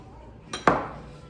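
Pressed garlic and half an onion, chopped, land in a pan for a plant-based spaghetti sauce, giving one brief clatter and a short rush of sizzle that quickly fades, close by.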